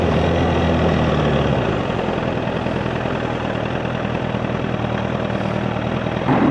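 A faltering Honda Fireblade motorcycle engine runs at around 2500 RPM, a steady close low rumble that holds level throughout with no voices over it.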